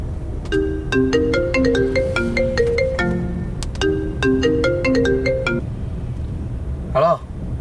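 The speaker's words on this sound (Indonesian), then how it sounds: "Phone Dirga kali ya." A mobile phone's melodic ringtone plays for an incoming call, a bright repeating pattern of quick electronic notes cycling twice over steady background hiss, then stopping with a brief rustle.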